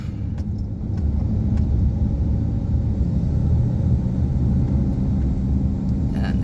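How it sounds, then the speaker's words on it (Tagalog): A car moving through road traffic gives a steady, fairly loud low rumble of engine and road noise that runs throughout, with no talking over it. "Traffic na naman."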